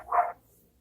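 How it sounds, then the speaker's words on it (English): A single short dog bark from dogs reacting to someone outside, heard alone at moderate distance in an otherwise quiet indoor room. "My dogs hear somebody outside, if you hear them barking."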